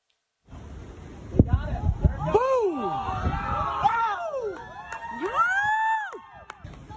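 Onlookers on the US East Coast shout, whoop and cheer loudly as a US fighter jet shoots down a Chinese reconnaissance balloon, with excited voices rising and falling in a continuous near crowd roar.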